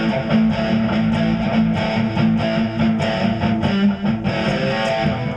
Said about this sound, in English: this is a stomp box effect. In other words, it's a distortion effect.